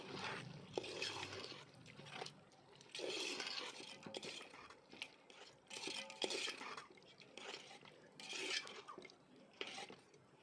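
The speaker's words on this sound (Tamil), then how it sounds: "தயிர் சேர்த்துட்டு நல்லா மிக்ஸ் பண்ணி விட்டுக்கலாம்." A spoon stirs curd into a cooking mixture in a pan, making repeated scraping and clinking strokes in uneven bursts, fairly quiet and close, with no talk.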